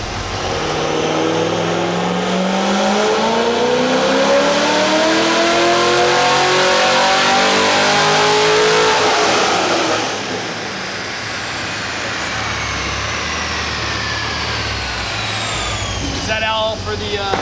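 A Chevelle V8 fitted with a lightweight flywheel and clutch revs hard and loud up close, then drops back to a rough idle with faint clutch chatter as people talk nearby.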